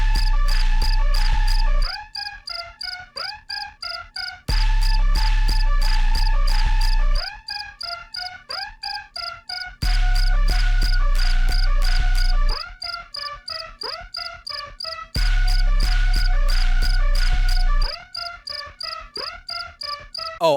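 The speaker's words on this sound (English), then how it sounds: "you just sit here and listen to crickets" Crickets chirping in a FNAF-style video game, loud rapid trilling pulses in repeating bursts over a low droning hum, the pattern cycling several times without pause and no voices present.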